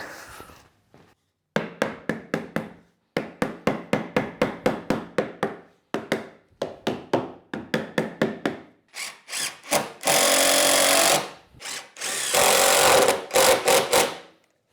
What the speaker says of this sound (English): So I'm just going to get all these in place now and screw them in from the side.